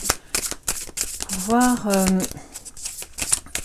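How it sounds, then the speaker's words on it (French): Tarot cards being shuffled and drawn for a love reading, brisk papery riffles and flicks running throughout beneath a person talking. "Et on va passer au tarot. Là, je vais prendre 3 cartes"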